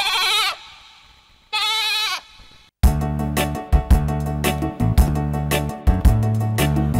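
A young goat kid bleats twice in quick, wavering cries, each about a second long, followed by a lively rhythmic drum-and-music sound effect in a children's story.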